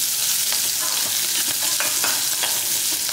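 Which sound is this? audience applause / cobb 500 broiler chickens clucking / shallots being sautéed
shallots being sautéed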